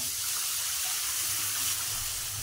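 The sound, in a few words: water being poured into mixture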